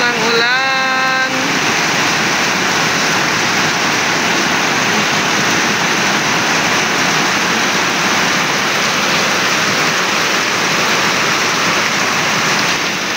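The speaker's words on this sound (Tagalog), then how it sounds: "Ang lakas po ng ulan." Heavy rain pours down in a constant, loud, broad hiss that continues through the whole stretch. A voice is heard briefly at the start.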